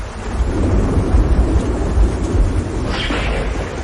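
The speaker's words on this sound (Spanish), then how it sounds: "agobiada por los truenos y los" Thunder rolls in a storm as a loud, continuous low rumble that fills the whole stretch, with a faint hiss like rain or wind mixed in.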